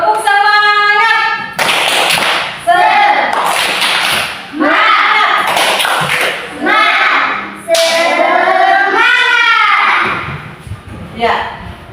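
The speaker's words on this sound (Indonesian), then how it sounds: "mari kita tepuk semangat" A class of children performs the rhythmic 'tepuk semangat' spirit clap in a classroom lesson, with sharp patterned claps mixed with loud chanting voices and an adult speaking between sections.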